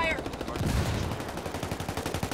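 Rapid automatic gunfire in a video game shooter, a loud rattling stream of shots with a heavier burst early on, bursts overlapping in quick rhythm.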